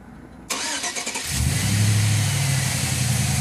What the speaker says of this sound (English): Let's see what it does when you crank it over.